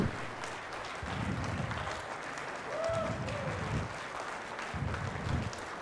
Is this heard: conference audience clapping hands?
yes